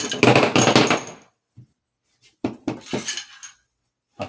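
.45-70 cartridges slide out of the magazine tube of an all-weather Henry rifle, dropping in two rattling clusters of metallic clinks and clatters separated by brief pauses.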